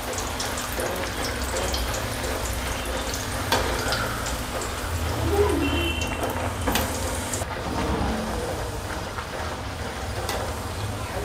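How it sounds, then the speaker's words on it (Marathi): Fenugreek (methi) puris deep-frying in oil, producing a continuous bubbling sizzle with occasional knocks and utensil sounds, moderately close and steady, with a faint running-water quality in places. "बाकी पुऱ्या पण अशाच तळून घ्यायच्या।"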